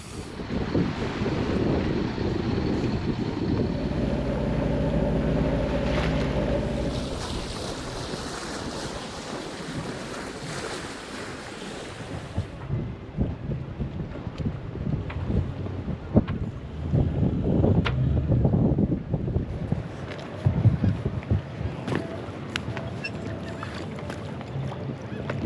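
Wind rushes over a sailboat moving at about six knots on open sea, loud buffeting gusts mixed with water washing against the hull, easing midway before rising again.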